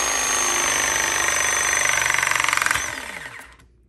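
A ZoomLock MAX press tool runs through its full crimping cycle on a press fitting, a steady loud motorized whir with rapid pulsing near the end, then winds down and stops, close up with no talk.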